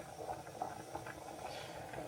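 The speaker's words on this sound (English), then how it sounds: "the water is boiling" Steady bubbling and hissing of water at a rolling boil in a pot on high heat, with soft irregular pops over a constant low rumble, close by and no voices.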